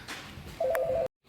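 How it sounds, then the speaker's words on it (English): A mobile phone in a car repair shop sounds a brief electronic ring tone, a short steady warbling beep lasting about half a second over faint background noise before cutting off to silence. "that is my phone"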